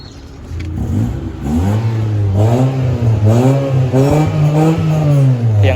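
Used automatic-transmission car with its engine idling and revving through the exhaust, a steady close low rumble that rises slightly, alone without talk.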